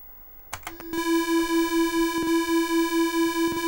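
Sinclair ZX Spectrum beeper playing two tunes at once, giving a steady, harsh square-wave buzz with a slow pulsing beat from the detuning, preceded by a few short clicks and blips, loud and alone.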